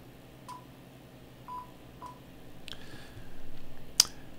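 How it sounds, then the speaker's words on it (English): An ICOM radio is switched on and gives a series of short electronic beeps and tones, some spaced apart and some rising, ending in a sharp click, faint and close with no talking. "I'm going to make a little noise here because I'm going to turn my radio on"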